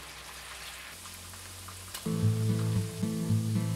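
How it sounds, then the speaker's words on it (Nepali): Meat sizzles and fries in a pan for a meat pickle, cooking until its water dries off and it browns. A steady crackling hiss carries throughout, joined midway by a louder, lower rumbling layer, with no voices. "यसमा भएको पानीहरू सबै सुक्ने गरेर यसलाई हामीले राम्रोसँग फ्राई गर्नुपर्ने हुन्छ।"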